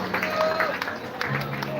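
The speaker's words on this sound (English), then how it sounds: "Let's clap again." A church congregation claps during a live-streamed service, with scattered, uneven hand claps mixed into a steady murmur of voices and talk.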